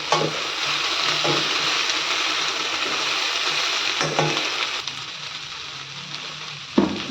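Vegetables frying in a pan with oil, stirred with a spoon: a continuous crackling sizzle broken by several scraping strokes and a louder clack near the end.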